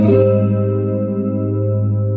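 A single guitar chord strummed on the top five strings, skipping the high E, rings out brightly, then sustains and slowly fades, with a slightly processed, effected tone.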